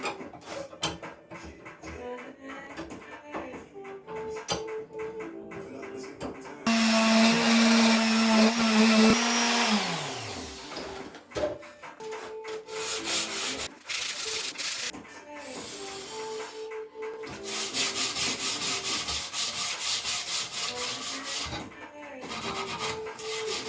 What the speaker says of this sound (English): I hit it with the sand blaster. With the sander.